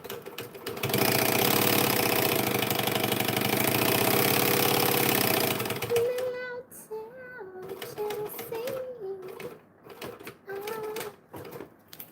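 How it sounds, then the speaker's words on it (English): A sewing machine runs fast while top stitching fabric, a loud continuous whirring buzz that lasts several seconds and then stops, followed by someone talking. "We almost forgot to top stitch the other side."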